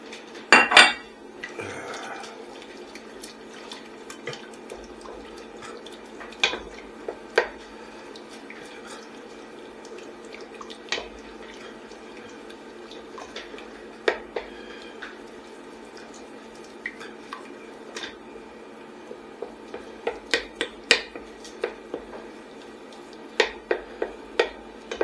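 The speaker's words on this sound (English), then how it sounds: "Make sure we stir the lumps out of it." A utensil stirs a flour-and-milk au gratin sauce in a pan, giving scattered metallic clinks and taps at irregular intervals over a quiet, faintly hissing kitchen background.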